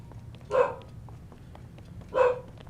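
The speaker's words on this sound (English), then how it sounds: "Fucking dog's barking as well." Two short, distinct dog barks about a second and a half apart, moderately distant over a low background hum.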